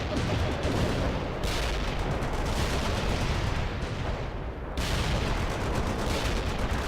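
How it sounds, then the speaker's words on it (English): Artillery shells striking in the video game World in Conflict, a dense roaring barrage of loud blasts and rumbling impacts that continues almost without pause, with one brief lull before another wave. "Coordinates locked down. Shells on the way."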